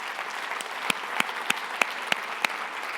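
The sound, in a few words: applause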